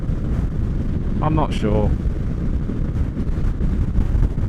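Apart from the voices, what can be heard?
strong wind blowing, crosswind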